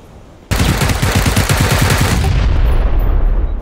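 Automatic gunfire in the battle royale game PUBG: after a quiet half-second, a loud, rapid burst of shots hammers out in quick succession, then continues as a dense, sustained roar of fire.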